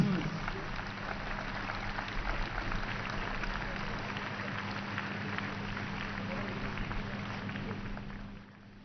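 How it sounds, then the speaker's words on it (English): A crowd applauds paratroopers at the Indian Army Day Parade, a steady, dense wash of clapping that holds for about eight seconds with faint voices mixed in, then fades at the end. "a big round of applause for these brave paratroopers"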